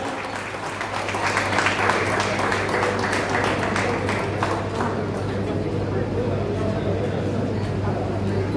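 An audience applauds loudly to welcome a speaker onto the stage at a Maithili cultural event, with sustained clapping throughout and a voice talking over it.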